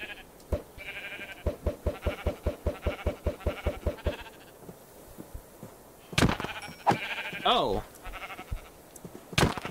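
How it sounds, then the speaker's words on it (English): Minecraft sheep bleat in a rapid series of short, evenly spaced calls, followed by a few louder, longer bleats close by, with a player's brief exclamation. "Oh, the attack of the sheep."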